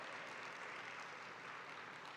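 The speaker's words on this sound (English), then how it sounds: "You could hear the applause for you." Audience applause at a digital innovation summit, a steady faint wash of many hands clapping at a distance, unbroken for the whole stretch and with no talk over it.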